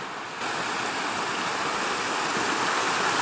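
A creek on a wilderness hiking trail in the Pecos Wilderness of New Mexico rushes loudly and steadily nearby, a continuous broad wash of flowing water with no voices.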